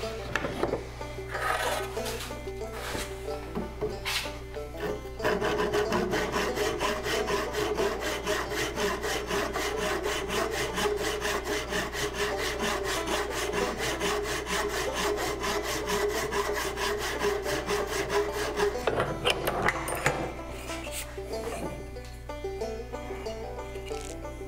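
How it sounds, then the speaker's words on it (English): Handsaw cutting through oak, a rapid, even rhythm of rasping back-and-forth strokes sustained for nearly twenty seconds at close range, with a few lighter scrapes before and after. "went ahead and cut it with my handsaw"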